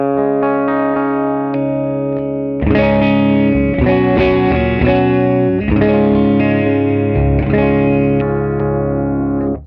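An electric guitar plays through a Victory V40 amp straight into its front input with no preamp pedal, a sustained distorted chord ringing before several loud strummed chords follow in a rhythmic, crunchy pattern.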